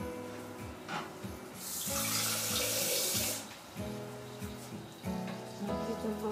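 Tap water runs into a pot while caramel is prepared for a coconut and raisin flan, a steady bright rush swelling in the middle of the clip, with clattering kitchen sounds and music underneath.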